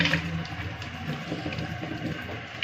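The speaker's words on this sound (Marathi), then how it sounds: "आता हे थोडं पाण्यात भिजत घालते" Water running and splashing as dirty kitchen dishes are set to soak, a continuous close gush with small clatters and no speech.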